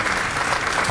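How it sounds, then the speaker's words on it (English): Conference audience at a mining and minerals industry event bursts into dense, steady applause, a continuous wash of many hands clapping at close range, with no talking over it. "Let's give him a round of applause."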